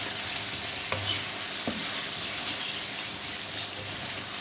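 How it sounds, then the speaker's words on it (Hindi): Garam masala and chaat masala frying in oil in a karhai, a steady soft sizzle with occasional stirring scrapes and clinks, close and fairly quiet, with no voices. "इसको अच्छे से भून लेंगे"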